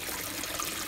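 Water trickling and flowing steadily from a homemade filter into a raised turtle pond, a soft continuous splashing wash heard close up with no voices.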